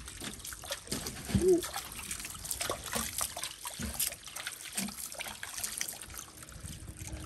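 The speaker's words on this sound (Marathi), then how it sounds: "आता ही जरा कॅन धुतो मी" Water trickles and splashes steadily as something is rinsed, with irregular sloshing close by and a faint background murmur.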